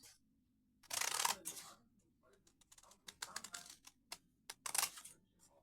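Scissors snip through a paper blouse front pattern in close, crisp bursts of cutting and paper rustle, separated by short quiet gaps.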